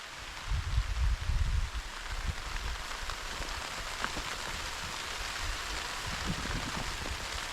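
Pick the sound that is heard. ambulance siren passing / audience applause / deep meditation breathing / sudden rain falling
sudden rain falling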